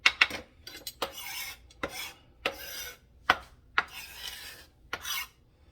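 A utensil repeatedly scrapes seeds out of a halved cucumber, making about eight sharp, rasping strokes with brief pauses between, close and fairly quiet.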